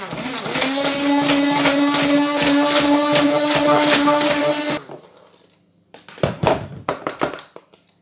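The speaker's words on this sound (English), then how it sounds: "I'm going to give it a blitz. Okay, just with a little hand blitzer." A small hand blender blitzes wild garlic hollandaise with a loud, steady whir for about five seconds. It then stops, followed by a few scattered knocks and clatters.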